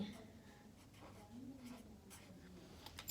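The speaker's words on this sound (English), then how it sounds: "So I'm going to write my word. I'm going to write swing." Faint scratching of a pen or pencil writing a word by hand, a few soft strokes close by, mixed with low background hum and light voice sounds.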